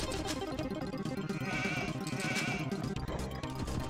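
Sheep bleat in Age of Empires 2, a busy game scene with layered sound effects and repeated animal calls over a constant, fairly loud mix.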